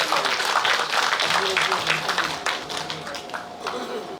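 Audience applause at a commemorative event for North Korean defectors in South Korea, a dense, loud wash of clapping that fills the clip and tapers slightly toward the end.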